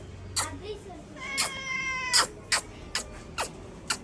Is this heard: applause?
no